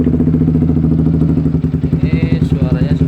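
A modified Yamaha Vixion motorcycle with an aftermarket exhaust idles close by, its loud, throbbing, burbling pulse holding steady, and a light rev flutters briefly near the end.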